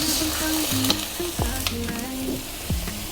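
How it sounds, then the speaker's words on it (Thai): A little plain water is added to a shrimp and basil stir-fry in a pan, bringing brisk close sizzling with light spatula clinks and scrapes throughout. "ผมจะใส่น้ำเปล่าเล็กน้อยนะครับ"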